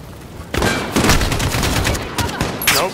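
Rapid bursts of automatic gunfire in the video game Call of Duty Modern Warfare 2, loud and dense, several overlapping shots in quick succession with a brief pause midway.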